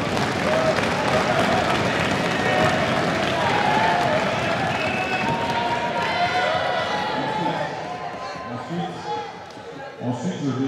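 Parliament delegates acclaiming to adopt reports: a sustained roar of clapping and cheering from a large crowd in a hall, loud and dense at first, then thinning into scattered claps with voices underneath.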